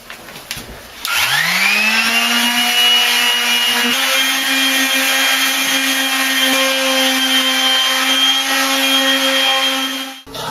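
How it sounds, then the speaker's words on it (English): A palm sander fitted with 150 grit sandpaper works a bathtub surface during a bathroom remodel, starting after a brief pause and then whirring steadily and loudly without a break for about nine seconds before cutting off. "now I'm going to sand it with the palm sander. I have 150 grit in here"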